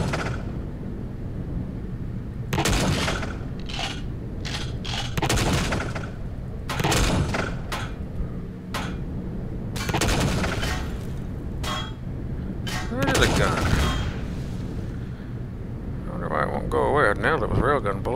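Bursts of gunfire and bullet impacts in an air-combat video game, sharp volleys repeating irregularly under and between someone talking.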